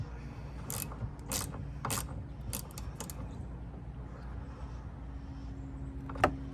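Ratcheting clicks from a socket wrench tightening the windshield wiper nut on a Jeep Wrangler or Gladiator, several short bursts of close mechanical clicking over a steady low hum, ending with one sharper click.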